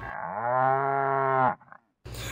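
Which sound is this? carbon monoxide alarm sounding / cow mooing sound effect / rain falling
cow mooing sound effect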